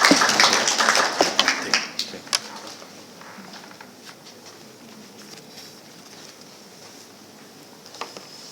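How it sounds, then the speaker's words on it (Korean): Audience applause welcoming a speaker at a 2022 cybersecurity workshop: a burst of scattered clapping in the first two seconds that thins to a few isolated claps, then a quiet room with faint background sounds. "큰 박수로 맞이해 주십시오"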